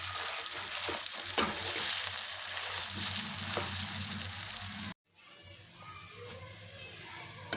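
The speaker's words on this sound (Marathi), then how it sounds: "2 मिनटं बारीक गॅसवरच तळून घ्यायचं आहे." Grated boiled potato stuffing for kacchi dabeli sizzling and frying in a pan over a low gas flame, a continuous soft crackle with stirring scrapes, cut off briefly before resuming.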